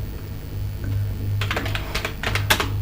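Typing on a computer keyboard while entering text in PowerPoint, a quick run of close, crisp key clicks in short clusters over a steady low hum.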